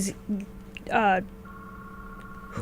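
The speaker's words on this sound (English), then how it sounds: "That's a phone." A telephone rings in a radio studio with repeated electronic trilling tones and a sustained beep, heard at moderate level in a quiet room.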